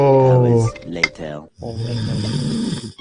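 A sleeping man snores loudly, with two long rasping, rumbling breaths separated by a short pause and a small clink, close and prominent.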